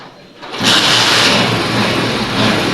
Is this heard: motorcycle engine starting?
yes